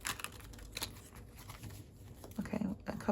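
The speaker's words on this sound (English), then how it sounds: "a couple more good shuffles and then we'll get on with it" Tarot cards shuffled by hand in short crisp bursts of riffling and rustling, with a soft voice talking near the end.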